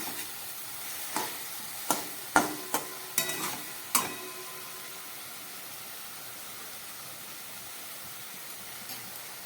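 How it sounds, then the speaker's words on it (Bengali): Spice masala for a katla fish curry fries in a pan, a steady hiss of sizzling oil broken by several sharp clinks and scrapes of stirring in the first few seconds, then settling into continuous frying alone. "ওপরের মশলাগুলোকে একটু নিচে দিয়ে দিলাম যাতে ভালো করে এটা ভাজা হয়।"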